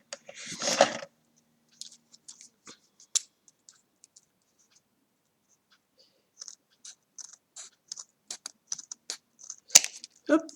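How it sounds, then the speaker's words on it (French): Several quiet crisp snips and clicks of scissors trimming a thin piece of a wooden crate, sporadic at first then in a quick irregular cluster, close up, with no talking. "Je vais prendre les ciseaux."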